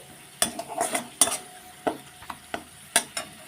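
A paste of ground mustard, sesame, poppy seed and ginger fries in a pan with a low sizzle, punctuated by a string of sharp spatula scrapes and clinks against the pan at an uneven rhythm.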